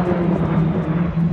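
Loud, steady roar of airplane engines passing low overhead near a stadium, a continuous rumbling wash of noise.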